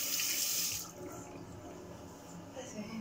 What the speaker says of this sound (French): Ma cuillère que je lave toujours.